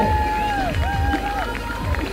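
Crowd at a beach volleyball tournament clapping and cheering in the stands, a loud steady wash of applause with whistle-like tones and voices mixed in.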